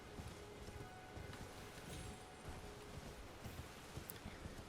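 Horse hoofbeats while riding in Elden Ring, a steady run of soft, dense clip-clop impacts at moderate level, blended with rustling ambience and no talk.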